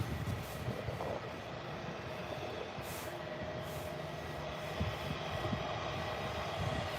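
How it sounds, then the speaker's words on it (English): An EasyJet Airbus A319 rumbles at Birmingham airport, a low, steady engine roar that sits faint and distant with no talking over it. "This EasyJet A319."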